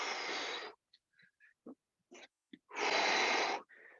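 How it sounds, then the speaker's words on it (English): Sharp, forceful exhales during a live abs and core class, two long breathy blasts with short puffs and snorts between them, close and fairly quiet. "Those strong exhales are going to help."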